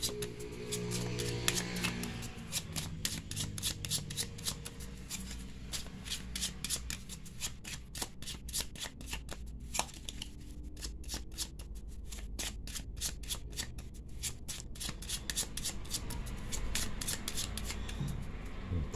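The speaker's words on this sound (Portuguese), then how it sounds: "Então vamos embaralhar as nossas cartas." Tarot cards shuffled by hand in a steady run of crisp riffling flicks and soft slides, close and continuous for nearly twenty seconds with no talking.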